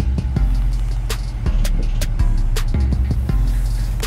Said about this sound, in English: Neon car sound